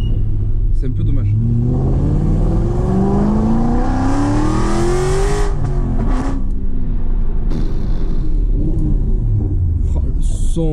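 An Aston Martin V8 Vantage engine revs hard, its loud roar climbing steadily in pitch as it pulls, then dropping off with a fresh rise and crackle near the end.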